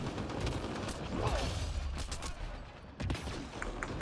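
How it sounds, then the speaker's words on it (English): Gunfire rattles through a Mass Effect Andromeda multiplayer match against a Hydra, a mix of sharp shots and bursts over a rumbling game soundscape, moderately loud, with a brief lull before firing resumes. "I'm gonna shoot you in your weak spot now"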